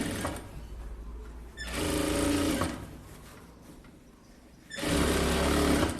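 An electric sewing machine stitches a blouse hem in two loud, steady runs of rapid whirring, with a quieter pause between them and no voices.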